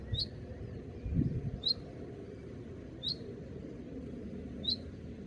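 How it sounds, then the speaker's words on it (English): Bird calling from up in the trees at a soil-sampling site, four short, bright chirps spaced about a second and a half apart over steady outdoor background noise. "There's a gorgeous bird call from up there."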